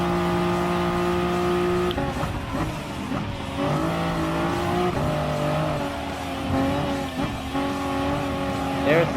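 Race car engines in Gran Turismo Sport, a steady, loud droning roar with rising and falling pitch as gears shift, plus occasional tire squeal, continuous throughout.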